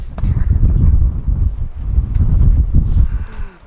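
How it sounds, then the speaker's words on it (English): Strong windstorm gusts buffeting a microphone outdoors by a van-life camp with a tarp shelter and fence, a heavy low roaring rumble with rustling and flapping over the whole stretch, easing briefly near the end. "the wind is also destroying the tarp section of our redneck shelter"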